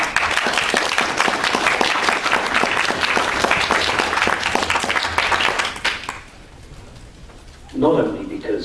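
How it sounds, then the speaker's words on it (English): Loud, dense applause from an audience at a press briefing fills the room for about six seconds, then drops away abruptly, and a voice starts speaking. "you're applauding me for the humanitarian position I've taken"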